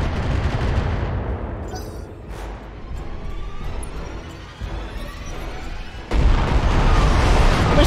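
Missile fire in the video game BattleTech, a loud, sustained roar of launches and blasts rumbling on for several seconds, easing slightly before a fresh heavy surge near the end.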